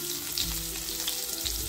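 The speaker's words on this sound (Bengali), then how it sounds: "আমি হাতেই লবণ আর হলুদ ভালোভাবে মিশিয়ে পটলগুলো ভেজে নিচ্ছি।" Pointed gourd (parwal) tossed with salt and turmeric fries in a pan, giving a steady close sizzle and crackle with faint stirring, no voices.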